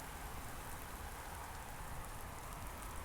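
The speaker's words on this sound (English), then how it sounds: "We get to see some little bit of rain here, which is awesome" Light rain falls on Lanzarote as a steady, even hiss of drops on surfaces, moderately loud and unbroken, with no voices.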